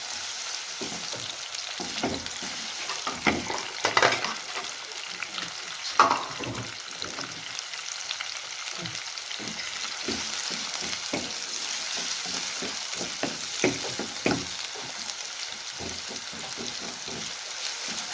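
Chopped onions sizzle steadily in a hot pan over the flame for aloo bharta, a close, continuous crackling fry with occasional louder pops and stirring scrapes, and no voices.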